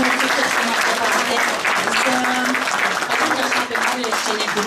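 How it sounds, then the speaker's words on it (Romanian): An audience applauds a performer at a seniors' evening in a hotel hall in Iasi, a dense, loud, continuous wash of clapping with a voice speaking over it. "Cătălina Rotar, haideți vă rog să o aplaudăm din tot sufletul"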